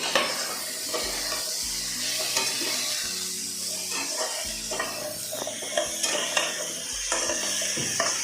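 Elephant foot yam pieces with turmeric are stirred in a pan, rhythmic spatula scrapes and clinks over a soft sizzle, close and steady across the clip, no voices.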